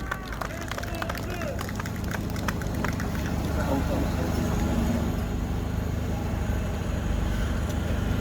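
Steady crowd applause with clapping and cheering at a political campaign launch event, a dense continuous roar of many hands throughout.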